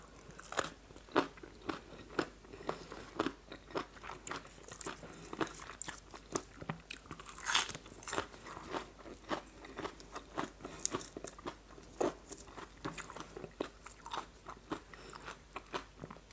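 Crunchy frozen papaya salad (som tam), eaten with salmon noodles and shrimp, bitten and chewed close up in a steady series of sharp, crisp crunches with no talking.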